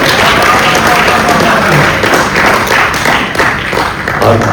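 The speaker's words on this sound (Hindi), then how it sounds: "और तालियां अब चाहूंगा साहब," Audience applause at a Hindi poetry gathering (kavi sammelan), a dense, steady wash of clapping from many hands with scattered taps, sustained throughout at close range.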